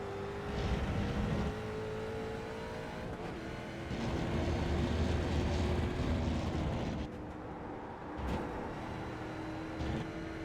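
A race car engine in an iRacing sim race at Laguna Seca roars steadily at high revs, its pitch rising and dropping with gear changes, continuous and fairly loud with no talking.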